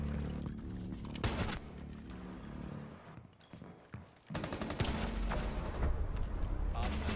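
Gunfire crackles in a five-player Rainbow Six Siege match, dense bursts of shots up front, a quieter gap, then heavier firing returning, with people talking over the action.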